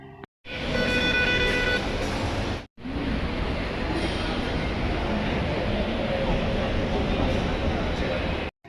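A metro train pulls into a station in Kerala with a loud, steady roar and rumble that cuts off briefly and then resumes, holding strong to the end.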